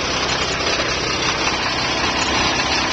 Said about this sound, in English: Engine runs unbelievable,